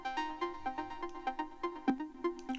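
A layered synth arpeggio from a Diva plugin preset plays rapid, evenly spaced plucked notes in a bright repeating pattern. It sounds clean and moderately quiet, with no voices.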